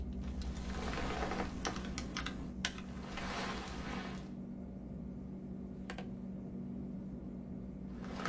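Rapid keyboard typing to enter a code, a steady patter of key clicks over a constant low hum, loud at first and quieter after a few seconds, with no speech.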